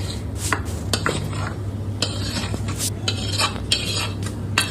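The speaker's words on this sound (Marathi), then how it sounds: "आता आपण ते छान मिक्स करून घेऊयात" A metal spoon scrapes and clinks against a pot of mutton curry in repeated strokes, stirring steadily over a low kitchen hum, with no talking.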